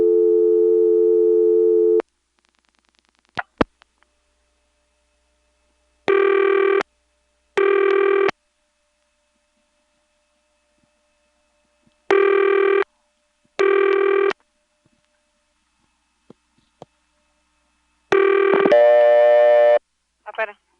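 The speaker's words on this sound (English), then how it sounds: "here's actually picking up the phone and dialing a 0, and you'll notice the register sender drops out right away" Telephone handset lifted on a senderized XY step-by-step exchange in Lexington, SC, 1977, with 0 dialed: a steady register-sender tone cuts off, then clicks and repeated ringback bursts follow, ending in a louder tone burst.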